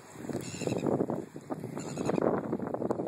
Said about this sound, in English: the seagulls want to eat.